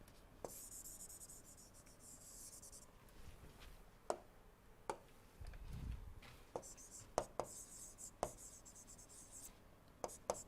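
Handwriting during an engineering lecture on alternative fuels: a pen scratches and taps on a surface in short strokes with sharp ticks between them, quiet and close, under faint room noise.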